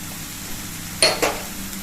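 Spiced stuffed kakora in a frying pan gives off a faint, steady background sizzle, broken by two quick scraping clinks of a spatula close together near the end.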